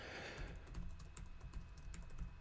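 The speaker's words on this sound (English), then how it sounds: "you can start typing away here and add as much data as you want" Fingers type on a computer keyboard while entering text in a Linux terminal editor, a quiet, rapid run of irregular key clicks heard close up with no talking.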